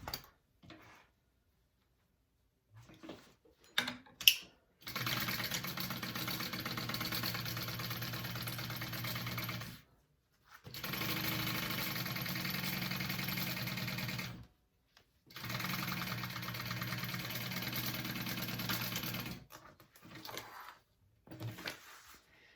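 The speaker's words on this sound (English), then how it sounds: "I'm going to sew them at a 1/2 inch seam allowance" A sewing machine runs in three long steady bursts as it stitches a tote bag seam at a half-inch allowance, with near, even motor whirring and brief handling clicks between the runs.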